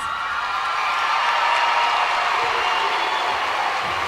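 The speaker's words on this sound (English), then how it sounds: "Huge ovation from this crowd" A college gymnastics crowd gives a big ovation after a floor routine, a steady roar of cheering and applause with scattered whoops, sustained and fairly loud.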